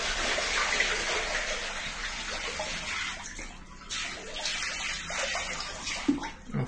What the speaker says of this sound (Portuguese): Será que a água tá saindo?